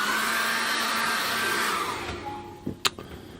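A hair dryer blows steadily at close range drying acrylic paint on a canvas, a loud continuous whooshing drone that cuts off partway through, followed by a few brief clicks and knocks.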